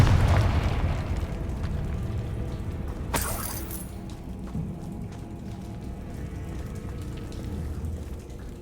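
A Confringo fire-blast spell bursts in Hogwarts Legacy, one sharp crackling explosion cutting through a steady, rain-like hiss of background ambience.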